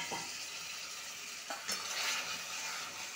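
Spiced potatoes cooking in oil with a splash of water for a home-style chicken dish, steady sizzling with occasional clinks and scrapes of a spoon against the pan.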